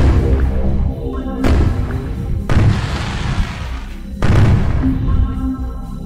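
Firework mortar shells in a fireworks simulator video game burst loudly in three heavy booming blasts with rumbling tails, spaced a second or two apart, each one close and full.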